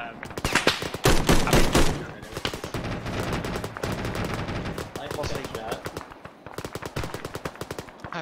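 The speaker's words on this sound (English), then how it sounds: "I bet they were shooting at me as well." Close, loud rapid gunfire rattles off in bursts and sustained volleys in an airsoft skirmish, with a brief pause midway, while voices talk underneath.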